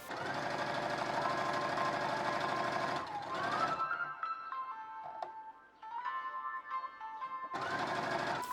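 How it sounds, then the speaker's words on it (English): A sewing machine runs steadily while stitching around the top edge of a fabric project, with a loud continuous motor whir that pauses briefly in the middle and then resumes. "Then sew all around the top like this."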